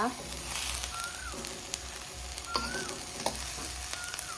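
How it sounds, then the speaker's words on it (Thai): Red ant eggs dry-roasting in a pan give a steady close sizzle and crackle, with faint stirring scrapes and the odd tap throughout. "ค่ะคั่วไปจนเขา สุกนะคะ จนแห้งนะคะ"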